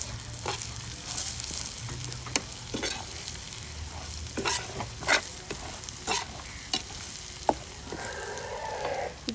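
Cumin and coriander paste sizzles and crackles in hot oil while chicken achar fries, with repeated sharp stirring scrapes and spatters over a constant hiss.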